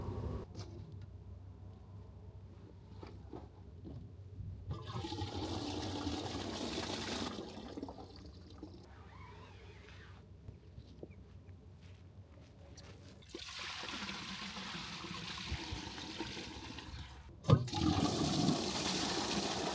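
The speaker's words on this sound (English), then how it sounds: "now to empty the grey water" Water draining from a grey water tank of an RV, a steady rushing gush that stops and restarts in several bursts, with a sharp knock near the end.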